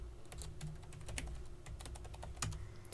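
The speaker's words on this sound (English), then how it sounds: "I type in admin and the password" Close, moderately quiet typing on a computer keyboard, an irregular patter of key clicks over a low steady hum, with no talking.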